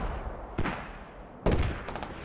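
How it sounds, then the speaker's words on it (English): Mortar barrage explosions in the military shooter game Squad, two separate heavy broadband blasts about a second apart with a cluster of follow-up bursts, landing at mid distance over a steady battlefield rumble. "Mortars right on the edge of the compound. Really well played there by the mortar barrage."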